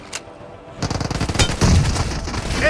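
Rapid automatic gunfire in BGMI, a 4v4 team deathmatch in the warehouse map with a Scorpion submachine gun; a faint tick, then a loud rattling burst of close shots, ending in a heavier sustained volley.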